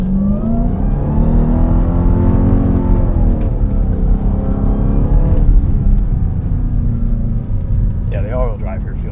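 A 710 hp 2026 Dodge Durango SRT Hellcat Jailbreak AWD accelerates on snow at a rally school, its engine a loud, close, continuous roar that rises in pitch, with voices talking over it.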